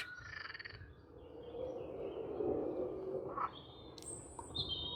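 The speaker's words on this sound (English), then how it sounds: "This must be frogs." Frogs croak continuously across a park in Dortmund, a dense, loud chorus that swells in the middle, with a few higher bird-like calls breaking through near the end.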